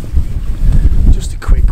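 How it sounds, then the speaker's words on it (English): Gusty wind buffets the microphone at a Lake District wild camp, producing loud low rumbling bursts that come and go, with a faint voice underneath. "It's quite windy, so I'm not sure what the sound quality is going to be like on this video."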